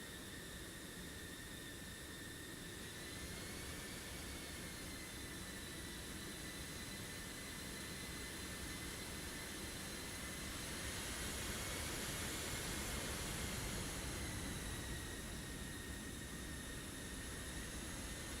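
Jet aircraft engines in a flight simulator combat game hold a steady, broad whine and roar as the planes start up and taxi, with a rising tonal hum through the middle; no voices are heard.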